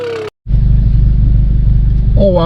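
A Volkswagen MK7 GTI engine fires up on a hot day and settles into a loud, close, steady idle rumble, preceded by a brief voice and a short gap, with a voice returning at the end.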